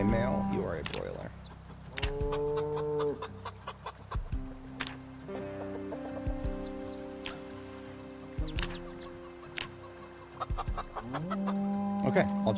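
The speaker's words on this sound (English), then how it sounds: "Okay, all chicks accounted for." Clucking chickens in Project Zomboid fill the scene with repeated near clucks, peeps and a few longer calls, a steady flock murmur alongside a voice talking.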